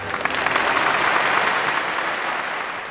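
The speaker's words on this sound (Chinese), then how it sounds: "掌声送给他们" Studio audience applause on a Chinese family variety show, a steady, dense wash of clapping that holds loud and even for about three seconds with no talking over it.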